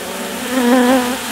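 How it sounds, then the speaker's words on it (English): Honeybees buzz around a nearby hive while cleaning out a bucket, a close, loud, wavering drone that swells slightly and then eases, with no voices. "I'm guessing these are my own bees"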